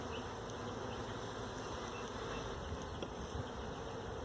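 Honey bees buzz continuously and fairly loudly around an open hive during an inspection, a dense steady drone with no talking.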